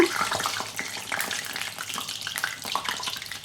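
Urad dal vadas (medu vada) frying in a hot pan of oil, a steady dense sizzle and crackle throughout with no talking.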